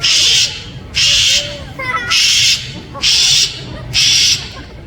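A large bird at a theme-park bird show gives five loud, evenly spaced harsh screams, each about half a second long, with a person talking quietly between them.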